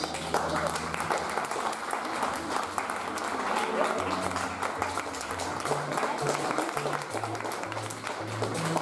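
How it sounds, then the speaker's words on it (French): Audience applause at the Miss Beauté Franche-Comté beauty pageant, continuous clapping from the crowd with music playing underneath and a voice faintly audible. "Sous vos applaudissements, c'est parti."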